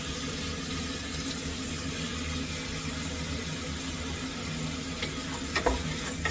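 Onion, tomato and curry leaves fry in a pan for chicken curry, giving a steady, close sizzle that holds evenly throughout with a few faint clinks near the end and no talking.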